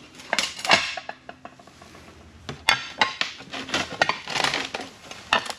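Plastic headlight lenses from a Ford XC panel van clatter and knock against a bucket as they are dropped into cleaning vinegar, a string of loud, close hollow clunks and scrapes at uneven intervals.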